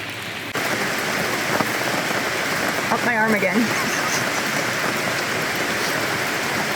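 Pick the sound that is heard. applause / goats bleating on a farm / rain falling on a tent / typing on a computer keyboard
rain falling on a tent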